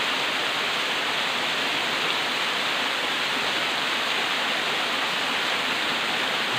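A tall waterfall in a rural Philippine area roars with a dense, constant broadband rush, loud and unbroken from start to finish, with no voices.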